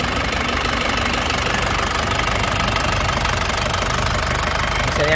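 A black 2006 Grand Touring car engine idles steadily with a dense, even mechanical rumble and faint knocking texture, close up and continuous without talk.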